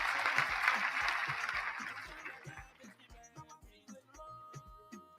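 A crowd applauds steadily for a few seconds; the clapping thins and fades as rhythmic music rises underneath and takes over.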